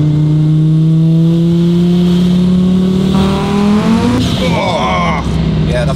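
A tuned Audi A4 B5 with a boosted engine revs up to about 5500 rpm, a loud rising engine drone that climbs steadily, then shifts gear and pulls again with a new rising whine.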